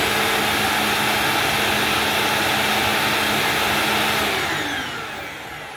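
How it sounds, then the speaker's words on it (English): A Bissell CleanView Bagless vacuum cleaner runs with a loud, steady broadband motor roar that holds constant for several seconds, then begins to wind down and fade near the end. "here comes the Bissell CleanView Bagless 2 in 3"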